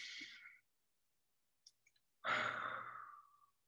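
A single deep breath is exhaled through the mouth during a breathing meditation, a soft breathy sigh after a few faint clicks and an earlier short breath.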